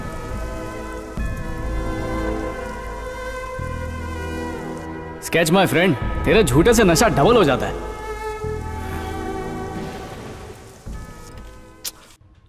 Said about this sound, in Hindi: बिजली और बारिश से अपना सोल कांपने लगता है